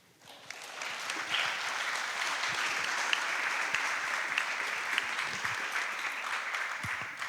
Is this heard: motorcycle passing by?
no